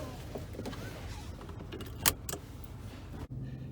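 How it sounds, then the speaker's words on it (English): Seatbelts being buckled inside a car, metallic rattles and a sharp latch click near the middle over a low interior hum, close by with no talking. "let's put on our seatbelts"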